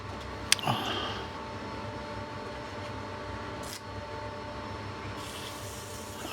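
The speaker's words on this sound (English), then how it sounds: "I start sanding at 150 grit inside and out" A woodturning piece is sanded at 150 grit inside and out as it spins on a lathe, giving a steady whirring drone with a sharp knock early on and brief scratchy swells of abrasive contact.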